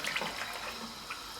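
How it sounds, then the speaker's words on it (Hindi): Water poured from a cup into half a kilo of lentils in a cooking pot, a soft continuous splashing and gurgling pour lasting a moment, fairly quiet and without talk. "मैंने आधा किलो दाल के लिए 4 कप्स पानी भर कर डाल दिए"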